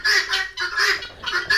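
Egg-laying farm chickens give a string of loud, honking clucks at a close distance, about four calls in quick succession with short gaps between them.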